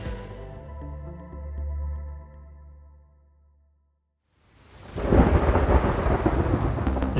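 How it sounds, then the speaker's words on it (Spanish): A thunderstorm with rain: a deep rolling thunder rumble fades into near silence, then a loud, dense rush of heavy rain takes over and keeps going, with no voices. "La lluvia está cambiando todos los planes"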